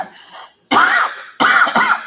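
Two harsh, close coughs follow a brief quieter breath, each burst loud and raspy with a short gap between.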